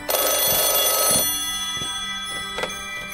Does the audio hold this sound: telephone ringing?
yes